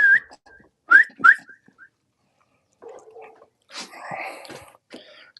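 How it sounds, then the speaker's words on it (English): A person outdoors whistles to call dogs, a few short sharp rising whistles close by, followed by quieter rustling and breathy noises. "Let me whistle to my dogs."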